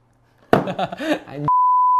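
A mobile phone notification beep, a single steady electronic tone that sounds alone after a short burst of speech.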